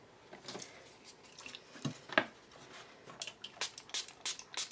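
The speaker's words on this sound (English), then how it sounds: "I'm actually going to spritz it with some water." A handheld water spritzer misting a leather journal cover: a series of short, soft hissing sprays that grow quicker toward the end, close and quiet, with faint handling noises between bursts.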